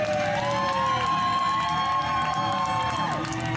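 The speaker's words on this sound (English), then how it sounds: "You can hear the crowd celebrating." Crowd at a New Heights Wrestling event cheering and whooping after a cage match win, a dense, continuous roar of shouts with some children's voices, loud and sustained throughout.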